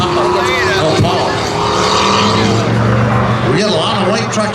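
Pickup trucks drag racing side by side at a spectator drag event at Beech Ridge, engines roaring loudly and continuously with rising and falling pitch, under a trackside announcer's commentary.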